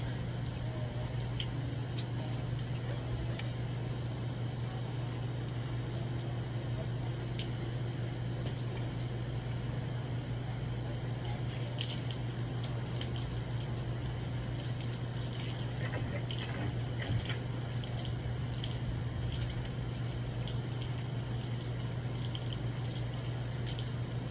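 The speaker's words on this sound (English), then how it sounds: "Give his paws a good rinse." Running water rinses a large dog's paws between the pads, a steady close wash of spray and dripping over a constant low hum, with faint squishy splashes throughout.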